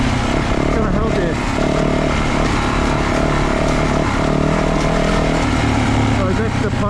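Enduro motorcycle ridden in first gear along state-round enduro trails at Busselton, the engine droning steadily and loudly throughout with slight rises and dips in revs.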